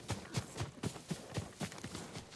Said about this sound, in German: Du bist ein braves Pferd, Nobu.